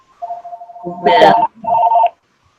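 A home telephone rings in a couple of electronic trilling bursts, loud and close, with a brief gap between rings.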